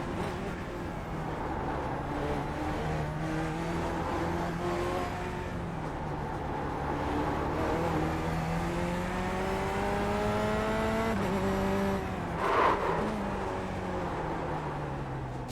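A Corvette C8 race car running a lap in iRacing, its engine droning steadily and rising and falling with gear changes through the whole stretch, with a brief louder burst near the end.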